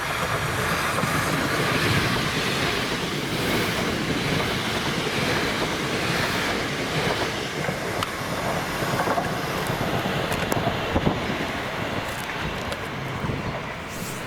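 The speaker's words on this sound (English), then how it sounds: "This is 2H07, the 1024 ScotRail Service Helensburgh Central from Edinburgh, 334012 and 334003." A ScotRail Class 334 electric multiple unit pair, 334012 and 334003, runs past at Bowling with a steady, loud wheel-and-traction roar that holds for the whole stretch, with faint rail clatter and no voices.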